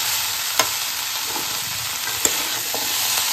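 Vegetables sautéing with spices in a pan for a vegetarian Bengali dish, a loud, continuous hiss of frying with two brief clicks of a utensil, close up and without talk.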